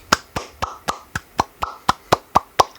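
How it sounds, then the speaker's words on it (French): Someone claps their hands about ten times at an even, brisk pace, each clap a crisp, loud, close slap with nothing else around it. "J'applaudis."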